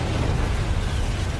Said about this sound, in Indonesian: Caitau sudah mempersiapkan alat lain untuk membuat ledakan agar menghasilkan asap yang tebal